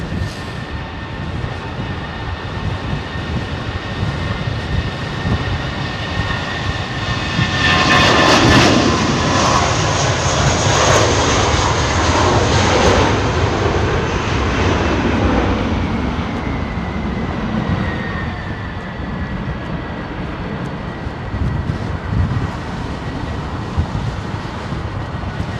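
An airliner with Pratt & Whitney PW4000 engines lands at London Heathrow in windy conditions, its loud engine roar building to a peak midway and then easing into a long, steady rumble under gusting wind noise.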